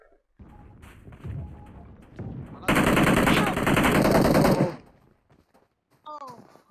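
Gunfire in the mobile game BGMI comes as a dense, loud burst of rapid automatic shots lasting about two seconds. Excited players talk over it before and after.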